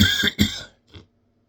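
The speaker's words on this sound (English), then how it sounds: "Sorry about that cough. Smoker cough." A smoker's cough: two harsh throaty bursts close up, followed by a short faint clearing sound, then silence.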